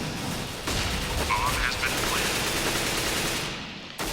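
Rapid gunfire from a Counter-Strike match on the Cache map at a professional esports semifinal, with players firing through walls; dense continuous shots and bursts fill the clip, loud and close, with a commentator talking over it.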